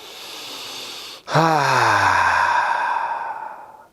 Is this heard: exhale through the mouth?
yes